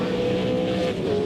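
Car 18, a V8 Supercar driven by Paul Radisich, races at the 2000 Queensland 500, its engine a loud, sustained roar that holds steady pitch throughout with no talk over it.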